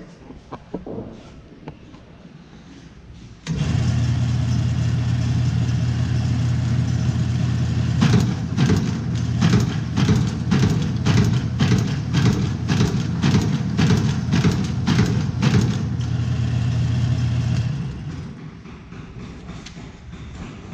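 A Rollem Auto 4 friction-feed perf, slit and score machine with two scoring wheels runs steadily at close range, a loud continuous mechanical drone with a rapid train of rhythmic clacks in the middle as sheets pass through, then winds down.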